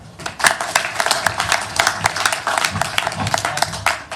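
Applause from an audience at a spiritual gathering, a dense, steady patter of many hands clapping close by for about four seconds with no talk over it.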